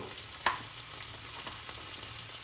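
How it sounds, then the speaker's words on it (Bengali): Jujubes fry over a low flame in a pan for a pickle, giving a steady hiss with one sharp utensil clatter early on and faint scrapes after. "এটাকে ভালো করে ভেজে নেব কুলগুলো হালকা ফ্লেমে রেখে"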